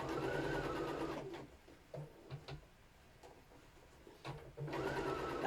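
A sewing machine stitching fabric runs in two rapid mechanical whirring bursts, one at the start and one at the end, with quieter handling clicks and rustles in the pause between.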